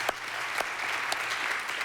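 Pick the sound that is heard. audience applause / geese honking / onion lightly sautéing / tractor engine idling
audience applause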